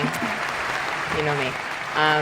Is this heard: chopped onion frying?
no